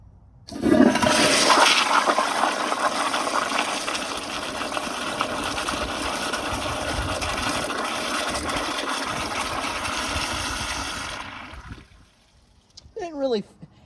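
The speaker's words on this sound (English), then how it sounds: "let's give it a flush" A new-old-stock 2015 Kohler Highcrest toilet flushes with a loud, steady rush of water lasting about ten seconds, then cuts off abruptly, leaving quiet and a brief trickle of refill.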